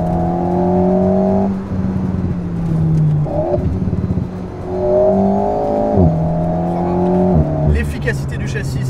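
An Alpine A110 rally car on a road stage, its engine revving hard and dropping between gear changes under braking and acceleration, loud and close, while someone talks over it.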